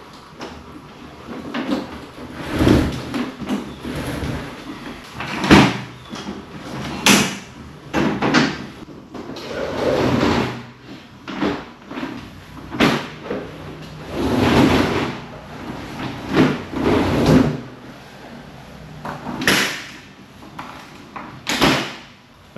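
Aluminum accordion hurricane shutters slide and fold shut across a front door ahead of a hurricane, giving a series of rattling metallic clatters and knocks at irregular intervals, close and fairly loud.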